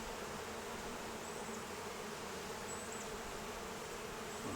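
Honey bees hum steadily at a backyard beehive, a dense, continuous close drone with no pauses and no voices.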